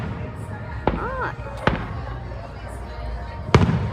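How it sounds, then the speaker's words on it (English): Big fireworks bursting outdoors, three sharp booming explosions spread over a few seconds, one with a rising whistle before it, and a voice reacting between them. "Bam. That's a big firework."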